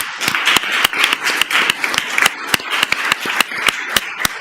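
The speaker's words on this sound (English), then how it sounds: "let's give them a big round of applause" Audience at a school committee meeting applauding, a dense, steady burst of many hands clapping close by, with sharp individual claps standing out over the wash for about four seconds.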